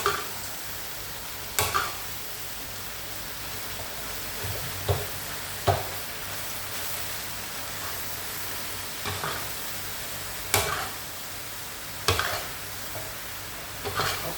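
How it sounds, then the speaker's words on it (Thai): Pork being stir-fried with soy sauce in a hot pan, a steady sizzle with periodic scraping stirs at a moderate level, no talking. "ผัดเลยค่ะผัดหมูขึ้นมาใส่ซีิ๊เลยค่ะ"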